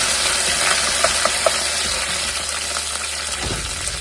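Chopped ginger, garlic and curry leaves sizzle in hot oil in a pan for a Kerala beef stew. The frying hiss is steady and close, with a few light clicks of stirring.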